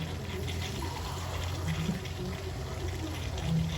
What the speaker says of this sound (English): I'm going to add another half cup of water in here.